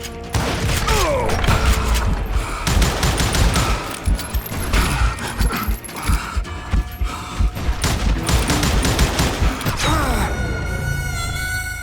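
Rapid bursts of gunfire from several guns in a first-person shooter game, loud and dense with mechanical clicks and clanks between shots, running almost continuously with no talk over it.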